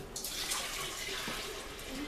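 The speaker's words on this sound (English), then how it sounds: "I just take the tea and I dump it in." Brewed tea is poured into a kombucha jar, a brief faint splashing trickle of liquid falling into the container.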